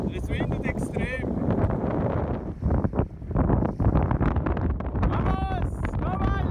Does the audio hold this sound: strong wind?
yes